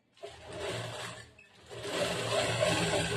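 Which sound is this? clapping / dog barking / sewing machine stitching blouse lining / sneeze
sewing machine stitching blouse lining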